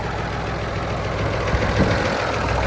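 A turbocharged tractor engine idles steadily nearby, a continuous low rumble with a faint rhythmic knock and no voices over it.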